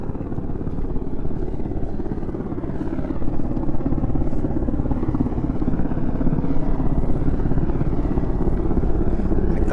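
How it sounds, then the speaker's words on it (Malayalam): A helicopter near Namche Bazaar on the Everest Base Camp trek gives a loud, steady rotor drone that stays constant and close throughout, with no speech over it. "കണ്ടിട്ട് നേവിയിലെ ഹെലികോപ്റ്റർ പോലെ ഉണ്ട്."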